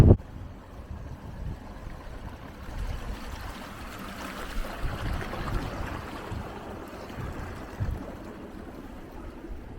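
Gusty wind buffets the microphone on a wild winter walk at Syke, a steady low roar with rising and falling surges throughout and no one speaking.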